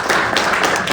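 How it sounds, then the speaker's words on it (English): Applause for a speaker at a startup fundraising competition event, a brief steady burst of clapping from a live audience filling the whole second. "Round of applause, please."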